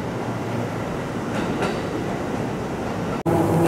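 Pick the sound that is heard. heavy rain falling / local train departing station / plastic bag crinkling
local train departing station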